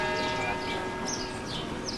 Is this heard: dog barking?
no